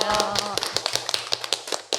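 A small group claps in encouragement at the close of a Korean radio drama talk session about rental deposit fraud, with sharp, fairly quick claps running alongside a voice at the start.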